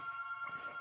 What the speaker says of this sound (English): the phone is so loud